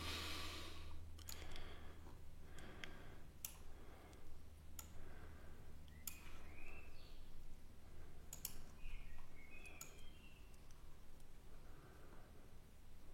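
Sharp computer mouse clicks, spaced a few seconds apart, sit over a steady low electrical hum while photo-editing software is being used in a quiet room.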